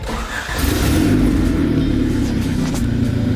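A turbocharged Honda Civic hatchback engine revs up and accelerates, rising into a steady, loud drone heard from close inside the vehicle.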